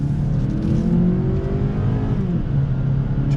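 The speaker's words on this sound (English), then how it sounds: "It's got that normal 4-cylinder sound, but it's not buzzy." A 2020 Toyota Yaris four-cylinder engine hums and pulls through acceleration, its pitch climbing smoothly, then drops briefly as a gear shifts before rising again.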